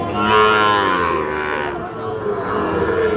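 A Sahiwal bull calf, about 8 to 9 months old, gives one long, drawn-out moo, close and fairly loud, with no talking.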